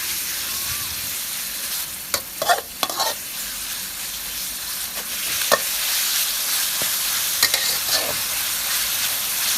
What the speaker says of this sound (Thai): เวลาทำกับข้าวที่เสียงกระทะจะดังมากๆ เลยนะคะ